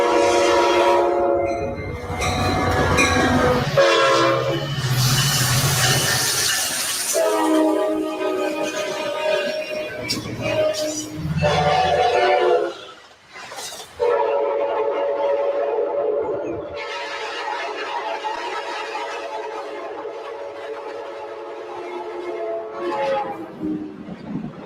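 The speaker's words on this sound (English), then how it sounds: "Amtrak's F59PHIs come equipped with a Nathan K5LA air horn." Loud multi-tone Nathan K5LA air horn blasts from an Amtrak F59PHI locomotive, several long and short blows in sequence, close and dominant, with a brief quieter gap in between.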